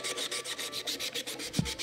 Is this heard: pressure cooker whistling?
no